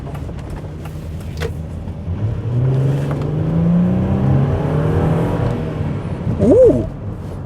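A 2.5-ton Nissan Elgrand Highway Star E51 V6 MPV accelerates, its engine note rising steadily in a smooth, moderately loud drone over road rumble, with a short whistle-like tone near the end.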